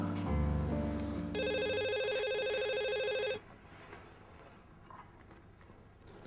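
A telephone rings loudly with a steady electronic trill for about two seconds, following a low tone and preceding quiet room noise; an indoor home scene from a television drama.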